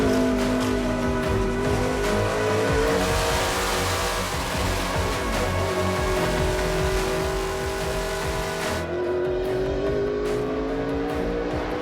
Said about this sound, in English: Hear the motor rev up real hard.